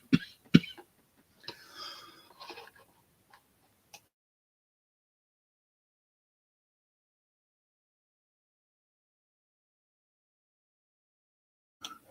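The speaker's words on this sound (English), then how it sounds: "I get that cough on my throat." A single sharp cough near the mic, followed by a few quieter throat sounds, then long silence.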